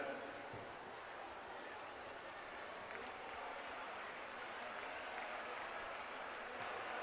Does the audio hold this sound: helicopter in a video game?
no